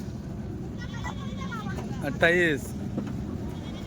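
A Rajasthani goat gives one short, wavering bleat midway, heard under someone talking loudly and steady crowd and traffic noise.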